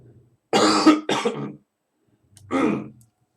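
Two harsh coughs close together, a short pause, then one more cough, loud and close with no talking.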